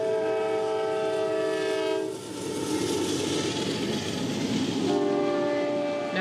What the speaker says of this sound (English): I know what that really is. That's the horn.